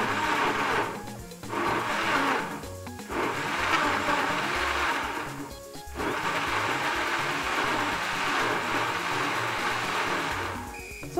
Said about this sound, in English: Now it's time for me to blend the tatache, onions and peppers.